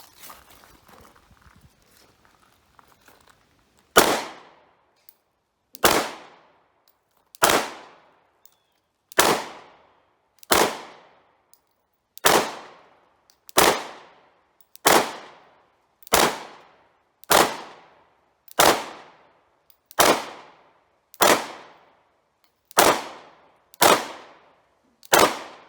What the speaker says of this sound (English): Got those on the last little group shooting one-handed.